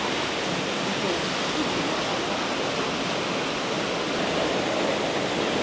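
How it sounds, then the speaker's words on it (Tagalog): Monasterio de Piedra waterfall heard from inside, a loud, unbroken broadband roar of falling water that fills the space. "We are inside the waterfall."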